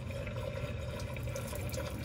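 Hot coffee, eight ounces, poured steadily onto the jacketing of fiberglass pipe insulation, a continuous close liquid splash and trickle lasting the whole moment with no talk.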